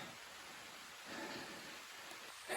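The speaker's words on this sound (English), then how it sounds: "Here comes the rain." Rain beginning to fall on a wooded hiking trail of the Appalachian Trail in Maine, a steady broadband hiss of drops on leaves and ground that swells slightly partway through, with no voices.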